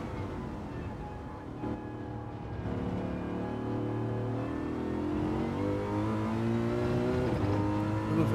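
A Mercedes race car in Gran Turismo 7 at the Daytona 9-hour race, its engine holding a steady droning whine that climbs and settles through shifts, loud and continuous for the whole stretch.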